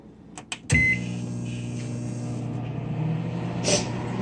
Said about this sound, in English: you're going to pop this into the microwave for 20 seconds